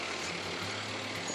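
Utility trucks work at a construction site where a power pole and transformer are being installed, giving a faint, steady low engine drone with no break.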